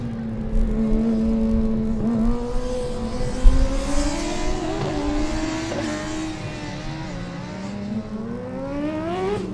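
Formula Student race car lapping an autocross course at Formula Student Germany 2012, its engine note rising and falling steadily with repeated revs and gear shifts, loud and continuous throughout with no talk.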